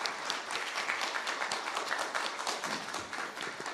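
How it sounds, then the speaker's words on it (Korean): An audience at a National Assembly policy forum applauds to welcome a presenter: a continuous wash of many hands clapping, even and sustained for nearly four seconds, moderately distant and without speech on top. "큰 박수 부탁드립니다."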